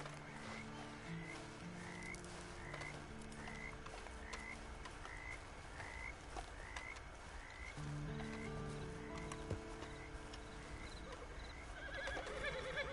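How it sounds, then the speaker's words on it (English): Horse whinnies and clip-clopping hooves in the Red Dead Online video game, repeated neighing calls over a steady, quiet ambient bed of frog-like croaking, with a faint voice at times. "Then you better get on this horse."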